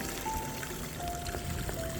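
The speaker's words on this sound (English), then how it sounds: "Just spring water." Spring water trickles and splashes steadily beside a hillside path on the Camino del Norte in northern Spain, a close, continuous babble.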